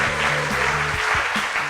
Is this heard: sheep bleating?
no